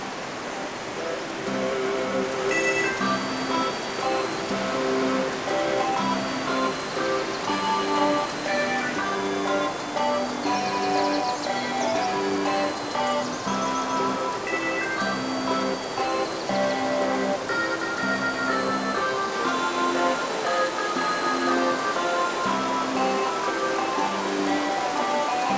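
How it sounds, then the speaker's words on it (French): A river swollen by water running down from the mountains, heard as a steady, loud broadband rush without a break. Music plays over the flow the whole time and no one speaks. "Toute l'eau qui descend de ces montagnes vient grossir cette rivière"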